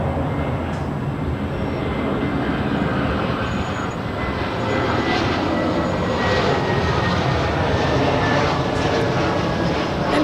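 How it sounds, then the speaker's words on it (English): Steady, loud jet engine roar from a Delta Boeing 767-300 airliner at LAX, a broad continuous rumble holding level for the whole stretch with no voices. "And that is Delta 323 heading back to JFK"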